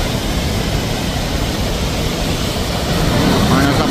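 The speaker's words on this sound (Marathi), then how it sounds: "जोरदार असा पाऊस पण चालू झालेला आहे" Heavy monsoon rain and the swollen Godavari River in Nashik make a dense, unbroken roar of rushing water and downpour that stays loud and steady throughout.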